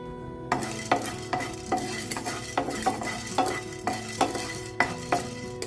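Spices and lentils dry roasted in a pan, stirred with a steady rhythm of scraping strokes about every half second, close and clear over a low background hum.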